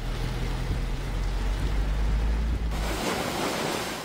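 Heavy surf roars continuously as big waves crash at resorts in Olongapo, Philippines, amid heavy rain, a dense wash of noise with a low rumble and wind buffeting.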